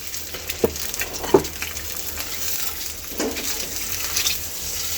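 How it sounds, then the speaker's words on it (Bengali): Eggs coated in turmeric are stirred and fried in a pan, giving a low, steady sizzle with a few faint scrapes and clinks, quiet and without voices. "নেড়ে চেড়ে নিয়ে আমি ভেজে নেব এই ডিমটাকে"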